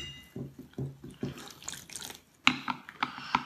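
Cold tap water runs into a big mixing bowl in a home kitchen, a few uneven splashes and drips with clattering bowl sounds, close and moderately loud, no voices.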